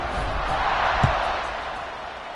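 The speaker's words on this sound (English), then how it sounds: "this crowd is buzzing after that last score" Stadium crowd at an American football game rumbling in a steady, dense roar after a score, with a brief sharp thud near the middle and a faint whoop rising out of the broad murmur.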